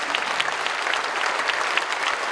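A church audience applauds Korean War veterans with steady, dense clapping from a large crowd, sustained without pause at moderate loudness.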